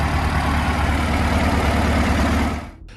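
A Model U tractor's four-cylinder engine runs with a loud, steady low rumble close by, then cuts off abruptly near the end.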